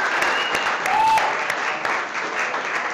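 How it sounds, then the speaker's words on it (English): Dense, steady crowd applause for a wine sponsor at a live-streamed chef showdown event, with a few sharper individual claps standing out and a brief tone sounding in the middle. "They always get the loudest applause"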